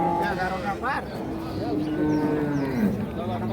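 Holstein Friesian cow at a busy village cattle market, lowing in a long, drawn-out moo close by, over a dense background of crowd chatter and market noise.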